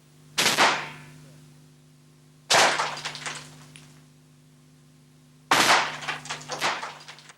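Bursts of SA80 rifle fire strike a bed of lightweight insulating blocks 210 mm thick, three sharp loud volleys spaced a few seconds apart, each a rapid crackle of shots decaying into quiet, over a steady low hum.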